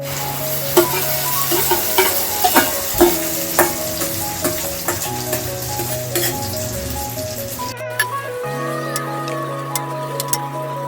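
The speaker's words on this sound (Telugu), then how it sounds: "ఇవి మీరు ఆమ్లెట్ లాగా వేసుకోండి గైస్." Egg omelette batter with tomato and chilli sizzles steadily in a pan for a bread omelette, with repeated stirring and scraping clicks over the frying and a short pause partway through.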